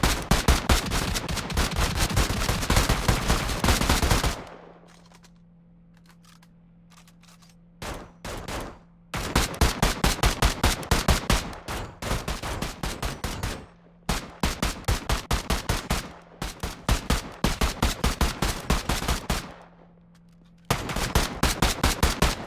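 Rapid bursts of gunfire during alternating shooting practice, loud and close, with long strings of shots separated by brief pauses while a low hum fills the gaps.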